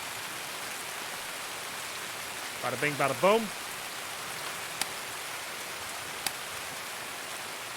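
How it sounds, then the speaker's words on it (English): Steady rain falls in the video game Escape from Tarkov, a constant even hiss that runs throughout, with a short spoken phrase and a couple of faint clicks over it. "that's in-game rain"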